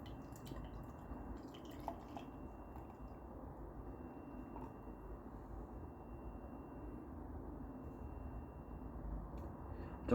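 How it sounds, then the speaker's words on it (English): Vault City sour beer poured from a can into a glass: a steady low splashing and fizzing, close and even throughout, with no talk over it. "Let's pour this bastard out."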